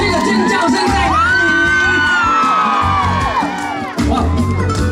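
A concert crowd screams and cheers loudly and close, with piercing whoops and yells swelling in the middle before settling, alongside a voice over the din.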